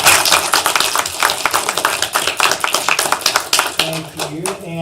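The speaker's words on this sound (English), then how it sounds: "Everybody give her a big round of applause." A room of people claps in a dense, lively burst for a volunteer who has just finished, the clapping thinning out toward the end as a voice begins speaking over it.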